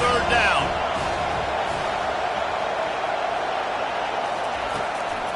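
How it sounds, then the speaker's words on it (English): A football stadium crowd roars steadily behind the home defense on third down, a broad, sustained wash of cheering that swells briefly at the start and then holds, with a commentator talking over it. "Decibels rising as the crowd gets behind this defense on 3rd down."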